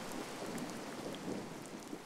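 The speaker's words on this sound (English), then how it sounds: "Or the storm just broke up and now it's just a drizzly rain, maybe." Steady rain and a thunderstorm in a video game, a constant dense hiss of falling rain with low rumbling underneath, heard alone at an even level.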